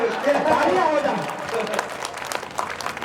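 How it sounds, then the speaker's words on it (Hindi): Audience applause at a Hindi kavi sammelan poetry recital in Gonda, a broad wash of clapping that rises after a voice at the start and continues at a steady, moderate level. "तालियां हो जाए"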